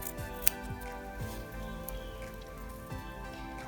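Scissors snip through fabric and eco leather while feather earrings with an embroidered top are being made, giving a few soft, close cuts spread across the clip along with one sharp click.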